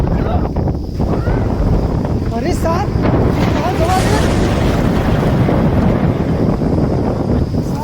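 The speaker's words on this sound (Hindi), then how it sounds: "इतना जोर आंधी आवत बा" A strong storm wind gusts across an open village, roaring steadily and buffeting the microphone throughout. People shout and talk loudly over the din.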